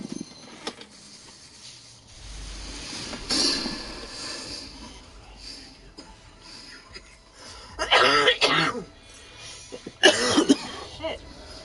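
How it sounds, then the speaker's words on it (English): Several bursts of coughing, one short hack early on and two louder harsh clusters later, heard close up over a quiet room. "whatever causing us to cough, we need to figure out the reason"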